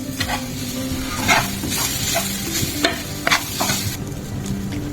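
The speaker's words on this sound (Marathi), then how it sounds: "खोबऱ्याचा किस किस टाकला तो पाच मिनटं परतवून घ्यायचा" Grated coconut stir-fried in a pan for ukadiche modak filling, with a steady sizzle broken by repeated scraping strokes of a spatula, close and fairly loud.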